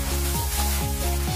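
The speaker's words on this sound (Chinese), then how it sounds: "起锅烧热，下油。 下白菜花炒一下" Cauliflower is stir-fried in hot oil in a wok, with a loud, continuous sizzle close by and a regular scraping of the spatula against the pan, and no voices.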